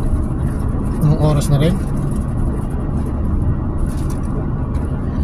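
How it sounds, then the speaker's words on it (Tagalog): Road traffic on Abdulaziz Road in midday heat rumbles steadily with engine drone and passing vehicles, loud and close, while a person talks over it. "Grabe ito po ang traffic ngayon"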